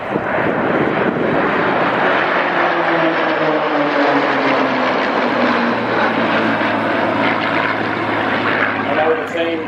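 A Spitfire flies a display at the Wings Over Wairarapa air show, its propeller engine a loud sustained drone with a shifting pitch as it passes, heard under steady commentary.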